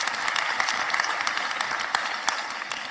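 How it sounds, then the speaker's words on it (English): Audience applauds 345,000 learners' record bachelor passes at a 2025 matric results announcement, a steady dense wash of clapping lasting throughout, moderately loud and fairly close. "I think they deserve a round of applause."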